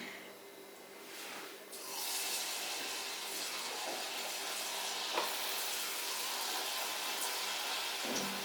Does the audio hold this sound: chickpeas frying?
yes